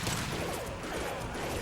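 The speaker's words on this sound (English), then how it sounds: "Firing an impact shot." A burst of weapon fire in Mass Effect 2, a dense crackling rattle of shots that stays loud and steady throughout with no voices over it.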